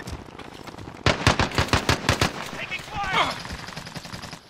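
Rapid automatic gunfire rings out in a video game, a burst of about eight sharp close shots in quick succession, followed by fainter game effects and sounds under players' voices.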